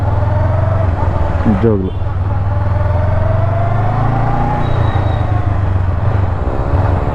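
Honda NX500 motorcycle engine in motion with a deep, bassy growl, holding a steady low drone that rises slightly midway, while a rider talks briefly over it.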